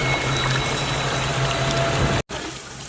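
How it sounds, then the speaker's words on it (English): A stainless steel water fountain with LED lights runs its pump in a steady, close humming drone over a watery wash, cutting out briefly near the end before resuming. "our water fountain"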